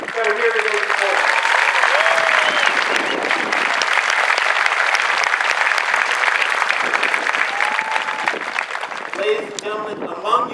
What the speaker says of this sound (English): So I want to give a huge round of applause to the families that are here today this morning.